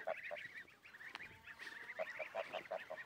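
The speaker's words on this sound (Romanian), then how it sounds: "Astăzi am zis să fac un video cu bobocei de gâscă." Young goslings outdoors giving rapid high cheeping peeps in short bursts, close and fairly soft, with a clearer run of calls toward the end.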